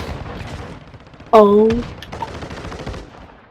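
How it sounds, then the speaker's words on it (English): A shotgun loaded with Dragon's Breath rounds fires one loud, sharp blast with a ringing tail in the Warzone Mobile team deathmatch game, and a voice gives a short exclamation. "These Stealth shotguns are really worth it, man."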